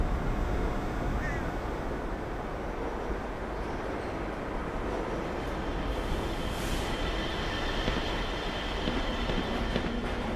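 The Black Mesa transit train from the Half-Life game rumbles steadily along its track, a loud, continuous rolling drone with faint rail clatter and no break throughout.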